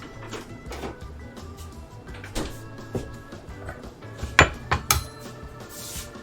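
Eggs, milk and flour whisked together for crepe batter in a bowl, giving scattered metallic clinks and taps against the bowl, with a few sharper knocks toward the end.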